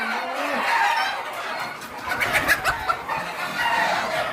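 A dense chorus of thousands of native chickens on a farm, where birds nest in cut-up tyres, keeps up continuous overlapping clucks and calls at a moderately loud level with no talking.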